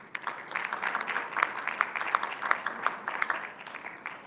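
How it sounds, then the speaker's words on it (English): A conference audience in Winnipeg, at the Filipino Canadian National Council gathering, applauds a panel speaker. Steady, moderately loud clapping carries on for several seconds with sharper individual claps on top, and no voices are heard. "Let's give a big round of applause to Marietta Pangan."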